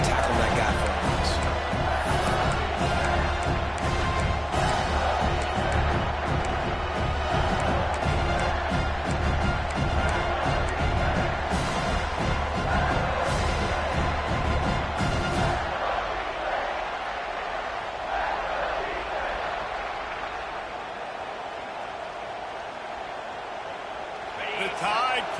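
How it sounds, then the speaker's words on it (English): Alabama football crowd at a packed stadium on third down, a dense roaring wash of noise loud for about fifteen seconds, then dropping to a lower murmur. "The Tide crowd rolling noise down onto Saban Field on 3rd down"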